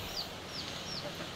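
Domestic chickens cluck softly and intermittently in a faint, distant backyard setting, with a few brief high calls over low background hiss.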